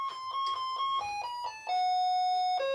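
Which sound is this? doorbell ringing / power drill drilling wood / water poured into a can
doorbell ringing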